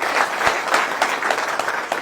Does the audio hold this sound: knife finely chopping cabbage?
no